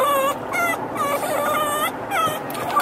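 A small dog wearing a Christmas sweater whimpers and whines continuously in high, wavering cries, close and fairly loud, with brief breaks between pitched yips.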